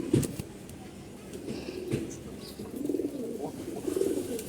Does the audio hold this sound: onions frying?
no